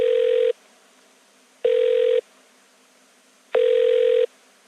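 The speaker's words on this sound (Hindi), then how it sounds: "बजते रहो, उठाऊंगा ही नहीं।" A telephone rings unanswered in a comedy scene with three short, even electronic ring bursts at a steady pace and quiet gaps between them, moderately loud with no talking.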